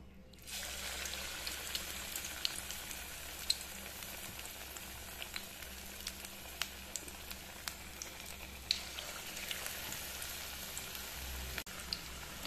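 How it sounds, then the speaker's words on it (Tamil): Spinach bondas frying in a pan of hot oil on a stove: a steady, soft bubbling sizzle with scattered small pops and crackles, continuous throughout, no voices. "இப்போ அடுப்பில் ஒரு வடைச்சட்டி வச்சுங்க, எண்ணெய் போட்டுருக்குறேங்க. எண்ணெய் காஞ்சிடுச்சுங்க. இப்போ நம்ம இந்த போண்டா போட்டுடலாங்களா"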